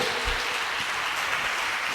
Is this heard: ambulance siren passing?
no